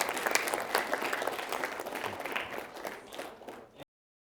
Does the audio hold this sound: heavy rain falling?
no